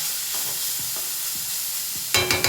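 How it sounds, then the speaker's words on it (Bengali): Bitter gourd frying in a pan of hot oil gives a steady, close sizzle, with soft stirring knocks scattered throughout and a burst of louder crackling near the end. "তেলের কড়াইতেই আগে উচ্ছেটাও ভেজে নেই"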